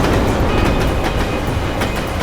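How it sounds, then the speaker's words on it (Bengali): A train passes nearby with a loud, continuous rumbling roar and faint rhythmic clatter from the wheels. No voices are heard. "আর যখনই ট্রেনের আওয়াজটা শুনতে পেয়েছিলাম"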